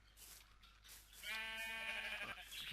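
Goats bleating in the Minecraft video game, a loud wavering bleat rising midway and holding steady to the end, with no talk over it.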